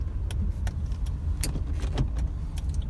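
Honda City ZX GXi rolling in second gear with the engine idling after decarbonization, a steady low engine hum with light rattles and clicks, no talking.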